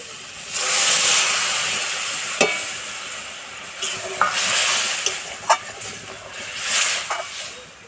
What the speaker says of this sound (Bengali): এবার আমি সিদ্ধ করা আলু আর মটরশুঁটি দিয়ে দেবো